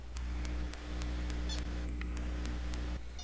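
A house cat meows faintly in the background over a steady low hum, a couple of soft short cries amid faint ticking.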